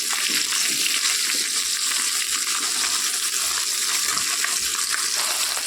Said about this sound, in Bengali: এবার মাছটা উল্টে দেবো